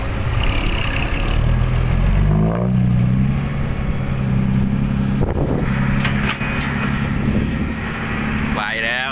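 Dump truck at a dirt pit, its engine rumbling loudly and rising in revs as it drives, with people talking over the noise.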